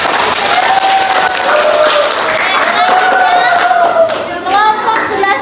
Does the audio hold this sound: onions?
no